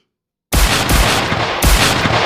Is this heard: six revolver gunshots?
yes